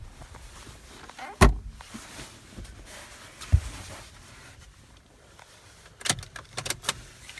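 Two sets of keys for a 2003 Honda CR-V petrol automatic 4x4 jangle and clink in short bursts, with sharp metallic jingles early and a busier cluster near the end, fairly close and with no talking.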